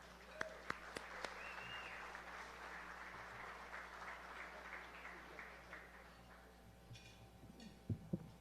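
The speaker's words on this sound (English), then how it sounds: "Let's have a big round of applause" Hall of Fame basketball ceremony audience giving a round of applause, a faint, steady wash of clapping from a crowd in a hall, with a few sharper nearby thumps.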